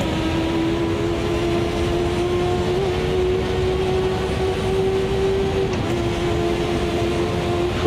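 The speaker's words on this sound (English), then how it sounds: "I've got a big train of cars, the rain's coming down again" Sim-racing cars from Automobilista 2 in a wet race, engines droning steadily and closely in a pack with a constant hiss of rain and spray, no talk.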